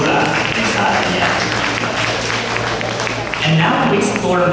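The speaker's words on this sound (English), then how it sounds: "a big round of applause to our Universitaria and Cultura Universitaria" Audience applause at a university talent event, a dense continuous wash of clapping and crowd noise that holds steady throughout, with voices mixed in.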